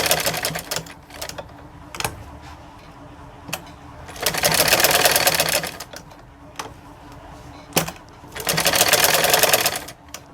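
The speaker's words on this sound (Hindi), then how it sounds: "तो अब हम इनके ऊपर से इस तरह से हम सिलाई लगा लेंगे और इनको अच्छे से सेट करेंगे।" Sewing machine stitching over fabric pieces for a kurti with sleeve and trouser designs, running in two long loud bursts separated by quieter pauses with short clicks and handling noises.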